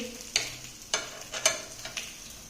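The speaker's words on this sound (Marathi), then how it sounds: "आता दुसऱ्या बाजूने या ठिकाणी हे आप्पे आपण भाजून घेणार आहोत।" Oats appe pan-frying on their second side in a low-oil appe pan, giving a soft sizzle broken by several sharp clicks and scrapes from turning the rounds, fairly quiet and close.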